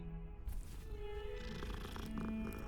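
A cat purring in the Hogwarts Legacy video game, a steady low continuous rumble throughout, close and fairly quiet with no talk over it.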